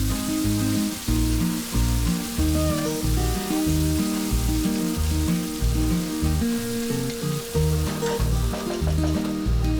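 Caramelized onions sizzle steadily in a pan for Nepali pork curry, a continuous bright frying hiss with occasional stirring, heard over prominent rhythmic background music.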